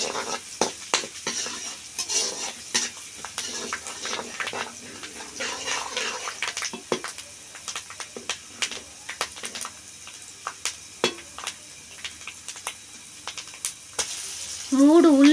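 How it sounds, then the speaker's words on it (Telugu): Finely chopped onions fry in a pan for egg curry with curry leaves, giving a soft steady sizzle under frequent clinks and scrapes of a spoon stirring. A brief louder burst comes at the end. "ఇప్పుడు వేసుకొని దోరగా వచ్చేటట్టు బాగా ఏంపుకోవాలండి"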